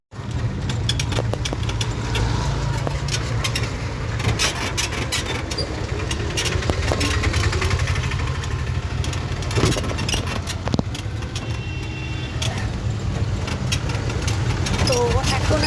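A toto e-rickshaw travels along a road carrying a parent and child to school, giving a steady rumble and road noise throughout with occasional rattles. A person talks over it.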